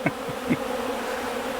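Honey bees working a hive frame during hygienic testing make a dense, steady buzz, close by and unbroken, with a couple of faint knocks near the start.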